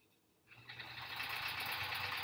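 A sewing machine stitches a quilt block for a sampler quilt, starting after a short quiet moment and then running in a steady, soft whirring hum to the end.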